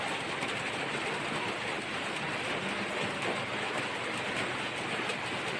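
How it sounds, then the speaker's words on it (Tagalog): Heavy rain pouring steadily, a dense even hiss filling the whole stretch without pause, with no voices. "hindi pa tumitila yung ulan"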